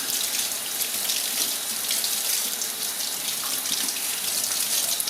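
Cold tap water runs steadily over kefir grains held in a screen-wire strainer in a sink, a constant close hissing splash with no pauses and no voices.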